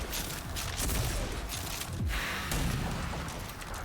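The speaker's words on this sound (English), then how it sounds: "Use the combat shotgun's overdrive against the simulated enemies" A combat shotgun fires its overdrive in RAGE 2, a dense, continuous rumbling barrage of blasts that stays loud throughout with no clear gaps between shots.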